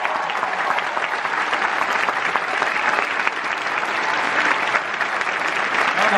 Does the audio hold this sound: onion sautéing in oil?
no